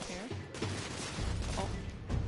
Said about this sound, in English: I'm under heavy fire!